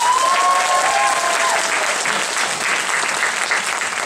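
Loud, sustained applause from an audience at a gathering, a dense wash of clapping that holds steady for several seconds with a faint tonal sound fading in the first moments.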